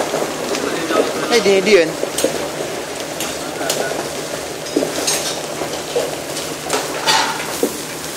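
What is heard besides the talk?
french fries being cooked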